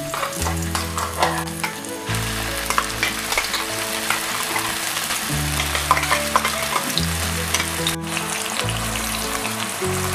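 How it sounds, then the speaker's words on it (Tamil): Ground masala paste fries in hot oil for egg pepper fry, a loud, steady crackling sizzle that runs throughout, with occasional stirring and no voices. "எண்ணெய் சூடு வந்தோடனே நம்ம அரைச்சி வச்சுருக்கோம் இல்லையா அந்த மசாலா பேஸ்ட்டை ஆட் பண்ணிக்கலாம்"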